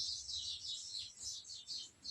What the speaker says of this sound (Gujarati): બુલબુલ હે ને બુલબુલ